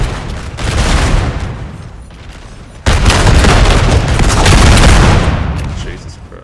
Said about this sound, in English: We got some almost point-blank fighting going on here, or shooting.